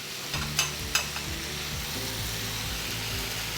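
Thai red curry paste sizzles steadily in a hot pan, a continuous close frying hiss with a couple of sharp spatters near the start and soft low stirring scrapes underneath, no voices.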